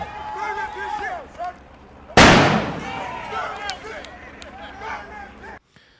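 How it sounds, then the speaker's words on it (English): A thrown bomb goes off in replayed news footage: one sudden, loud, close blast with a rumbling decay, and people talk before and after it. "You can see the convict running away after throwing the bomb."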